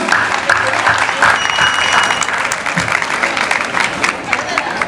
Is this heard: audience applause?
yes